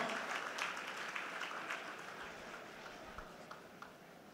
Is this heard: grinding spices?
no